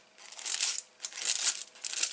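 Scissors snip through tin foil in short, faint crinkly bursts, about four cuts close by, with no voices.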